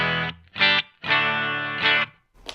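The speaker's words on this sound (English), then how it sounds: "I'm playing my Fender Stratocaster through the Friedman into our 2-note clean." Fender Stratocaster on its bridge pickup through a Friedman amp's clean channel, with a few sustained chords and short strums, close and moderately loud with no voices.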